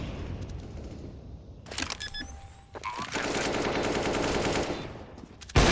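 Gunfire in a Counter-Strike match on the Dust 2 map comes as a sustained spray of rapid automatic shots, loud and continuous after a few scattered earlier cracks.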